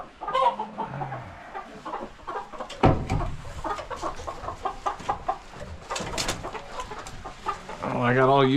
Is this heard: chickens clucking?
yes